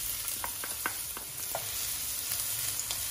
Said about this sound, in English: We'll fry our aromatics first. 2 pieces of shallots chopped.